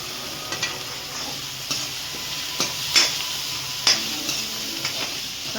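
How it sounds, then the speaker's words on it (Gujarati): Garlic and onion cooking together in oil in a pan, a soft steady sizzle with intermittent scraping and stirring clinks, close and moderately quiet, no talk. "લસણ ને ડુંગળી આપણે એક સાથે ચડવા દઈશું તો તેલમાં"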